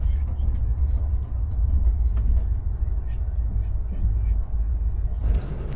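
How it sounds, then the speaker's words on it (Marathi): A moving train heard from inside a carriage on a journey to Mayapur, a low, steady rumble and rolling hum throughout, fairly quiet and continuous. "आपली ट्रेन ऑलरेडी चालू आहे"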